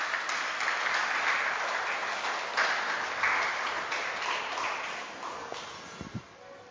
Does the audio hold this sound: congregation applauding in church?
yes